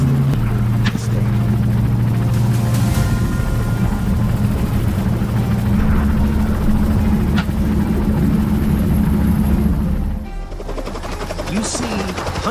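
Helicopter flying low while hunters pursue feral wild boars over farmland, a loud continuous rotor and engine drone with steady low thumping, shifting in tone near the end.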